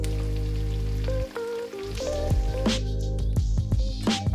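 Four eggs fry in a pan, a steady close sizzle with bright popping spatters and crackles scattered throughout, over a low constant hum, with no talking.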